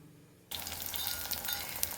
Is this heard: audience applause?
no